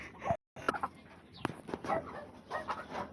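Nearby chickens on a farm cluck and squawk in scattered bursts, with a brief silent gap near the start.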